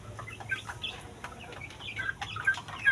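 A pullet chicken, sick with fowl pox and kept apart from the others, clucks softly in short scattered calls against a low steady hum, with some faint chirps mixed in.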